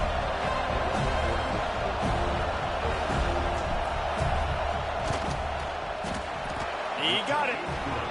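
A loud, steady stadium crowd roar swells during a field goal attempt in the EA College Football 26 video game, with a commentator's voice running over the noise.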